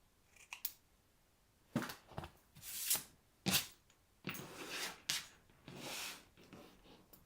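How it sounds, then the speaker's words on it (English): Scissors trim the paper sides of a handmade gift card holder, heard up close and quiet as a series of short crisp snips and slicing strokes in an irregular rhythm. "I'm going to use my scissors to trim each side."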